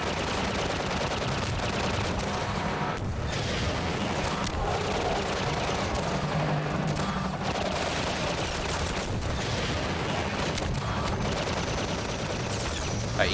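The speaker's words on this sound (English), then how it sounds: "Okay, so we're starting in with full rockets here." Rockets fired at a gunship in the video game Half-Life 2 amid a dense, continuous roar of blasts and combat noise, loud throughout with occasional sharper bursts.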